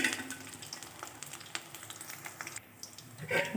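Steady crackling sizzle of lentil fritters frying brown in hot oil, close up, with occasional sharper pops and a brief scrape of a utensil.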